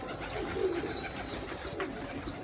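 Teddy pigeons at a breeder's loft give low, rolling coos that carry continuously beneath a constant wash of other bird calls, fairly close and moderately loud.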